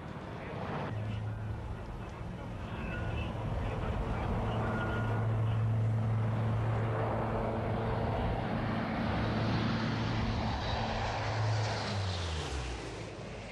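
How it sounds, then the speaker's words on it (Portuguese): A Lockheed C-130 Hercules four-engine propeller transport flies a simulated runway approach and climb at a 1983 air show in Portimão, its droning engines rising loud overhead, then the pitch sliding down as it passes and pulls away. "O Hércules vai fazer uma aproximação simulada à pista"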